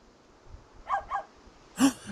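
A dog in the video game Carto gives two short barks close together, then a louder single bark a moment later, heard alone against a quiet background.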